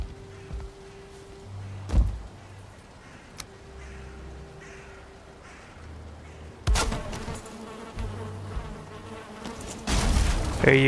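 Bees buzzing in the video game Valheim, a low droning hum that comes and goes in short stretches, with thumps and louder bursts of game noise toward the end.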